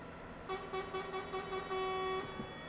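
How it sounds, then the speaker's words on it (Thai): Truck horn in Truck Simulator: Ultimate on an RNUT Magnum sounds in several short repeated honks, loud and close, then one longer steady blast, with no talking. "แตรก็จะเป็นแบบนี้นะครับ"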